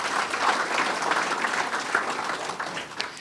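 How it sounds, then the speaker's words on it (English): Steady applause from a crowd, dense clapping filling the whole stretch without a break, moderately loud and close. "So a big round of applause, please."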